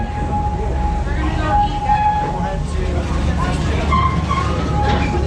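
The Serengeti Express train at Busch Gardens rolls into the station with steady wheel rumble and squealing tones as it approaches.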